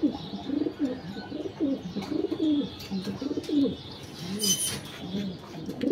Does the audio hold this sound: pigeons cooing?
yes